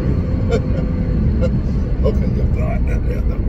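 A 2014 Nissan GT-R accelerates on a highway, its steady broadband engine and road roar filling the cabin loudly and continuously, while a voice speaks briefly over it.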